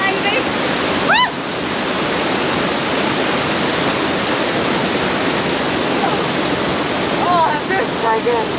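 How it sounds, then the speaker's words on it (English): A powerful waterfall at Lapopu or Matayangu Falls in Sumba, Indonesia, roars as a constant, loud, broadband rush of falling water close by, with a couple of brief high whoops or exclamations cutting in over it. "This has just been probably the best waterfall we've ever seen"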